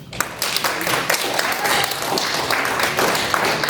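An audience at a student debate demonstration breaks into a steady burst of applause after a speech closes, dense overlapping clapping sustained for several seconds.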